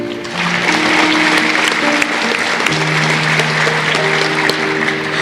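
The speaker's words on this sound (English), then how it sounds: "Join me in one more round of applause for our students from Decker Prairie Elementary." Loud, even applause fills a school district academic awards ceremony for elementary students, sustained for over five seconds, with soft sustained music tones playing underneath.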